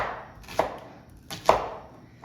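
Peanuts, fish and onion crushed together for a peanut sauce, two distinct pounding impacts about a second apart with a soft grinding scrape between them, close and clear with no talking.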